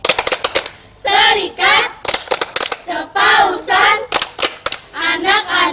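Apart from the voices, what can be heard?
rhythmic clapping chant, tepuk sekami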